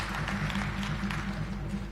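A church congregation claps through a service, producing a steady, continuous wash of applause over a low, sustained hum.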